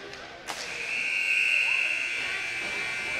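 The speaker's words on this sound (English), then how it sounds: "As the buzzer sounds on our second period" A loud, sustained electronic buzzer ending a period at a ball hockey game blares for a few seconds over crowd noise in an arena, following a brief thump.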